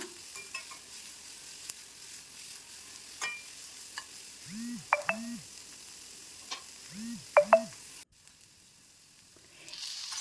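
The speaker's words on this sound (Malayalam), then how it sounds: "ഇനി ഇത് നന്നായിട്ടൊന്ന് വഴറ്റി കൊടുക്കാം" Sliced shallots sautéing in a pan for a Kerala squid roast, with soft stirring scrapes and a low sizzle throughout, a few brief clinks of the spoon against the pan, and no talking.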